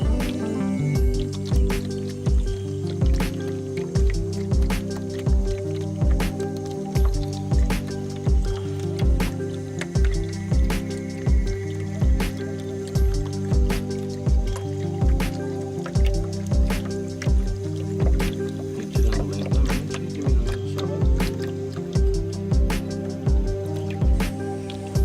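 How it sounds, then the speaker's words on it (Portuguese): Water flows slowly into a sample bottle, trickling with a regular pulsing gurgle and dripping rhythm that repeats steadily, close and fairly loud throughout. "Vou liberando a vazão lentamente, até o preenchimento do frasco"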